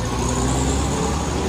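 A heavy bus engine drones steadily close by on a mountain road at Sitinjau Lauik, a dense continuous roar with no voices.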